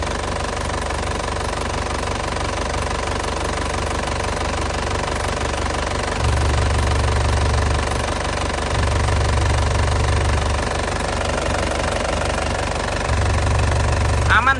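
The hot engine of a 2011 Grand Touring car idles with a steady, rough mechanical knock, a low rumble periodically swelling louder, while a voice talks over it.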